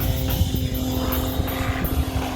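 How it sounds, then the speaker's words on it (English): A Pitts aerobatic biplane's propeller engine at a Dayton airshow, a continuous droning buzz held steady at moderate distance through the brief moment. "he's able to accelerate out of it and continues to keep the Pitch biplane rolling"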